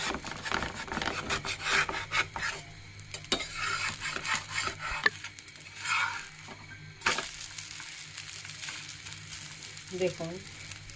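A vegetable and coconut chapati being scraped and loosened from a hot oiled pan, with repeated rough rasping strokes over a soft sizzle, close by and steady, with a brief voice near the end.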